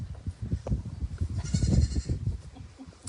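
Goats bleat on a farm, several animals calling near and far among shuffling barnyard noise, with a brief higher-pitched bleat midway and no talk.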